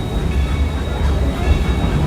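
Dollywood theme park train on a rainy day in the Smokies, a steady low rumble of rolling wheels and carriage noise running continuously at moderate loudness, with no clear voices over it.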